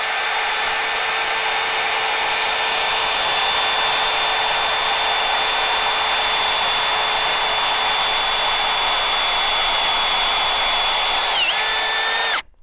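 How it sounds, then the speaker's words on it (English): Cordless power drill boring a tap hole into a maple tree trunk, a loud steady high-pitched whine held for about twelve seconds with slight pitch dips near the end before it stops abruptly. "And then you can just start drilling"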